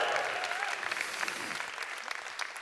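Audience cheering and clapping for Joel, the conference organiser, at the Sunrise Australia opening remarks, a dense steady wash of applause throughout with whoops rising above it.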